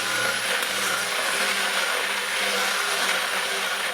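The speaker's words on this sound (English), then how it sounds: "let's get our immersion blender going. Give it a quick buzz down" An immersion blender runs steadily for the whole stretch while blending solvent and plant material for Rick Simpson oil, a loud continuous whirring buzz with no talk over it.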